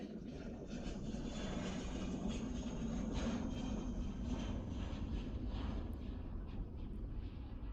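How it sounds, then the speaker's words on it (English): Volaris airliner taking off at San Jose airport, heard as a steady, fairly distant broadband jet roar that holds level throughout with no voices. "Something taking off right here. Volaris going to Mexico."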